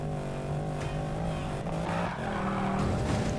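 Car drifting in the racing video game Need for Speed Payback: steady engine drone with tire squeal layered over it, loud and continuous throughout, with no voices.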